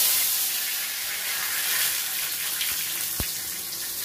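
Panch phoron, bay leaf and chilli sizzle in hot oil in a kadai, giving a steady, close hiss with a couple of sharp pops near the end.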